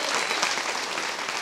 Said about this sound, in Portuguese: palmas pro Arthur aqui